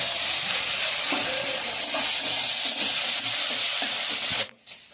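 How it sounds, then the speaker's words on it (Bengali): Prawns fry in hot oil with a loud, steady, close hiss of sizzling that runs unbroken, then cuts off abruptly just before the end. "চিংড়ি মাছ ভাজা চলছে।"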